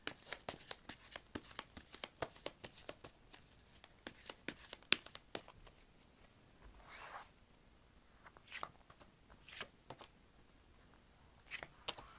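Tarot cards being shuffled by hand, a close run of quick crisp riffling snaps and flutters that comes in bursts and then thins out into scattered, softer card rustles.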